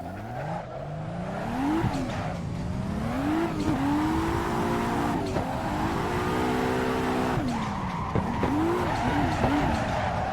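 A car skids through a handbrake turn in a racing video game driven with a MECA EVO handbrake and shifter. The engine drones steadily and rises and falls with gear changes, under long continuous tire squeal, loud and close with no talking.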